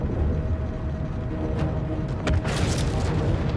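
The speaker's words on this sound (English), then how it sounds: "Let's see if we can take them out with the turret." A ship turret fires at a Pisces in Star Citizen, rendered as a dense continuous rumbling boom with a few sharper cracks near the end, loud and close with no talk.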